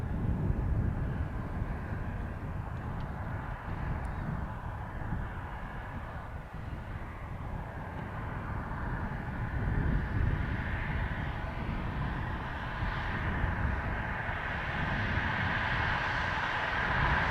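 A China Eastern airliner departs Dublin Airport, its broad, steady engine roar and low rumble sustained at moderate distance with a gentle swell midway, alone without talk.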